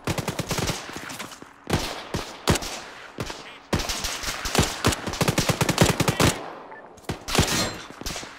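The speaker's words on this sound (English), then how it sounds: "we've still got a lot of fire going down range" Automatic weapons fire in the military video game Arma 3, rapid loud bursts of gunshots in clusters with short gaps, some sharp nearby cracks over a sustained exchange.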